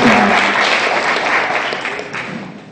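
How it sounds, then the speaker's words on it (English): An audience at the Fairest of the Fair 2015 pageant applauds its candidates, a dense burst of clapping that starts full and gradually tapers off, with no voices over it. "a round of applause for all of our candidates"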